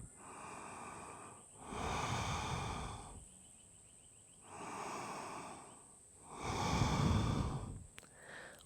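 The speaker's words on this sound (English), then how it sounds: "Please take 3 more breaths." Slow, deep yoga breaths during a seated twist in a vinyasa flow: four full breathy cycles of airy inhales and louder exhales, close and steady, with no talking.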